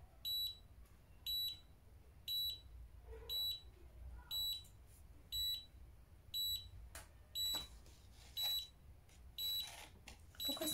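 A L'Liss Curly cordless automatic hair curler beeps in a steady repeating pattern, about a dozen short high-pitched bleeps evenly spaced roughly a second apart, close by in a quiet room.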